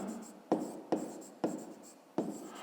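A pen writes on paper in a school maths exercise, making four quick close scratchy strokes, each a sharp onset that fades before the next, with soft background noise.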